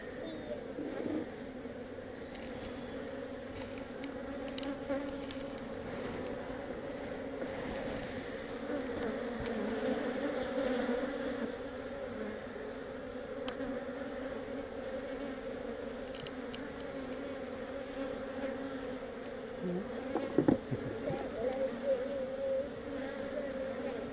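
Honey bees buzz steadily in a dense, droning swarm close by during a nuc hive installation, a continuous hum with a few louder passes near the end.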